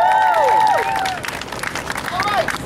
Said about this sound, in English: Clap your hands and make some